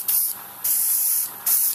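Repeated bursts of liquid being sprayed onto Deadzone wargaming terrain tiles, three loud hissing pulses close to the mic with brief quieter gaps between them, no talking.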